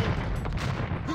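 Bombard cannons in an Age of Empires match firing in a dense, rapid volley of overlapping booms and cracks, loud and continuous for about a second.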